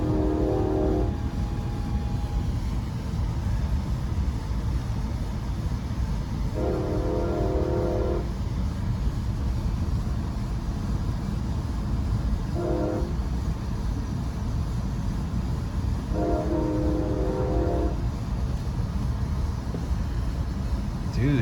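An Amtrak Surfliner passes, sounding its horn in several blasts of differing length, long, short and long, over a steady rumbling background of rail noise, heard from onboard a nearby train.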